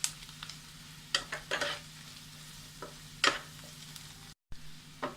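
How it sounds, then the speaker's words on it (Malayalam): Masala powders are sautéed with softened onions for Kerala fish molee: a faint, low frying hiss sits under intermittent scraping stirs of a spoon, with a brief dropout near the end. "ഇനി ഇതിലേക്ക് മസാലപ്പൊടികൾ ചേർത്ത് കൊടുക്കാം. ഇതിൻ്റെ പച്ചമണം മാറുന്നവരെ വഴറ്റാം."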